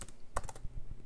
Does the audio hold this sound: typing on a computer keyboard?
yes